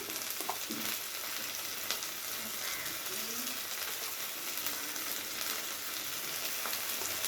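Garlic paste and green chilli paste fry in oil in a pan for a tel potol dish, making a steady, fairly soft sizzle with occasional stirring scrapes.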